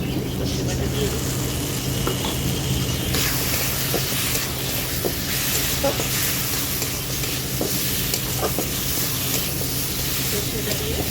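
Ground mustard paste hits a hot pan and sizzles, giving a steady, close frying hiss with occasional stirring scrapes. Someone speaks quietly underneath.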